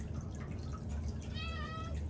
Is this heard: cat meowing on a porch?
yes